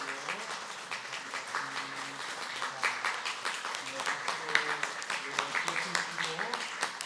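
A congregation at a Sunday church service applauds during a gift presentation, with sustained, fairly distant clapping under a person speaking.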